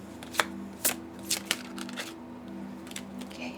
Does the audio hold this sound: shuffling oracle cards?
yes